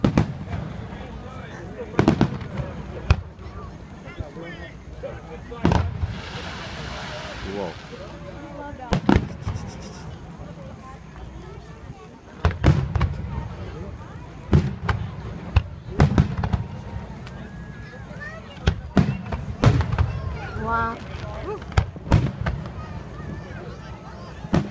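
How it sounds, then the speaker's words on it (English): Fourth of July fireworks in Charleston, South Carolina burst in sharp, scattered bangs, some near and some farther off, with a whistling rocket early on and people talking between the blasts. "Got a firework."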